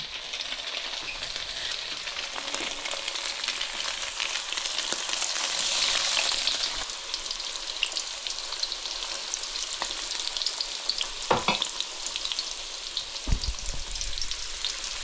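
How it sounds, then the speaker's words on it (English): Panko breadcrumb coated calico bass fries in very hot oil, a steady close sizzle with crackling that swells midway and a few sharp pops and stirs near the end, with no talk. "First batch is frying up."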